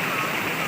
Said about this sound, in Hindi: ये हैदराबाद के अंदर बड़ी तेज़ बारिश हो रही है